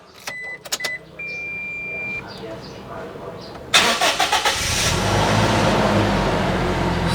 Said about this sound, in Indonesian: Oke, kita starter ya.